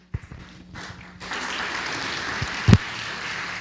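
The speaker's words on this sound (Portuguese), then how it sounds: "Vamos aplaudir a Deus." A church congregation bursts into sustained applause, a broad, even wash of many hands clapping that fills the room after a few scattered early claps and a brief thump.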